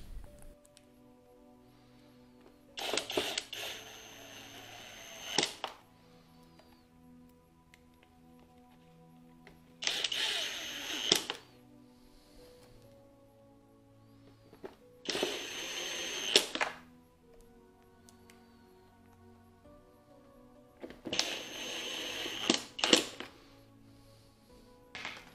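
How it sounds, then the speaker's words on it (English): Phillips screws driven into an LG refrigerator's evaporator fan cover, heard as four separate close bursts of screwdriver whirring and rattling with quiet gaps between them. "you'll install these Phillips screws"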